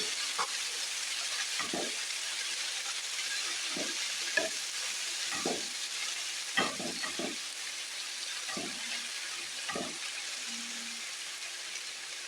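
Onion and spinach fry in a pan for a healthy wheat-crust spinach and ricotta quiche, a constant close sizzle broken by several sharp stirring scrapes at irregular intervals.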